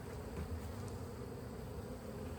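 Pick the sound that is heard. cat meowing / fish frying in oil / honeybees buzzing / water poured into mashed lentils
honeybees buzzing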